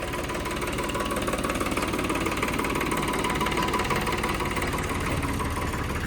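A tractor engine idles steadily nearby, a low, even diesel throb with a continuous rattling vibration and no pauses.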